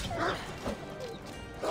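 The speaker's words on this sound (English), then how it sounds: "Spark kick the fucking wolf." A wolf in Assassin's Creed Odyssey yelps and whimpers after being kicked. Short, sharp canine cries come in a few bursts over a busy game soundscape.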